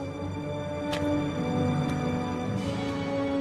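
Skeleton Crew theme music played in a victorious, brave fashion: sustained orchestral chords with swelling strings and a few bright cymbal crashes, moderately quiet and without voices.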